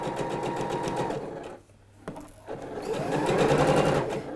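A sewing machine runs a straight seam on a dress, a loud close rapid whir that stops briefly mid-way, gives a couple of clicks, then resumes at speed.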